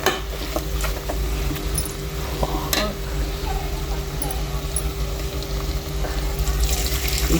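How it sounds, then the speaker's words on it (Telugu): A steady hiss and sizzle of water poured into a sizzling farm chicken curry in a hot pan, with occasional clinks of stirring throughout. "అయితే నీళ్ళు కొంచెం నీళ్ళు అయితే పోసేసుకున్నాం"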